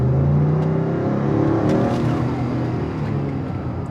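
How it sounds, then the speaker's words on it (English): A 2025 Lincoln Navigator SUV's engine pulls steadily under acceleration, a loud continuous low drone and rising hum heard from inside the cabin, with no talking. "Very good acceleration."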